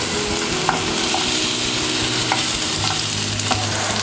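Onion sizzles loudly in a hot pan with ginger garlic paste, a continuous frying hiss broken by repeated spatula scrapes and stirring knocks at an uneven pace.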